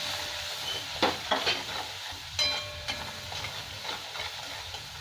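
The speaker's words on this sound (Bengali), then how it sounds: "এবার এটাকে আরও 3-4 মিনিট ভালো করে আমি ভেজে নেবো, তাহলে পুরো তেলটা ছেড়ে দিবে।" Spice paste of cumin, coriander and Kashmiri chilli with salt and turmeric frying in oil in a pan for doi potol, a steady soft sizzle broken by several brief stirring scrapes.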